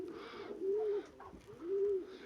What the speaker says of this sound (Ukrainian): А це голубка, все перебита.